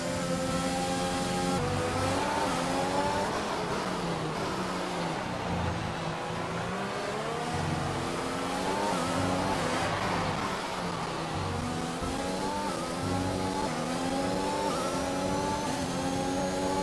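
A Formula One race car in the F1 2021 video game drives at speed, its engine a loud, steady high-pitched whine that rises and drops through repeated gear shifts and throttle changes across the whole stretch.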